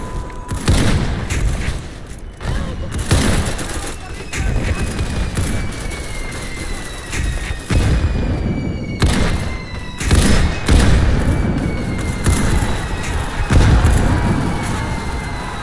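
Heavy artillery in the Centaura battle game booms repeatedly, with loud overlapping blasts, thuds and rumbling fire close by throughout.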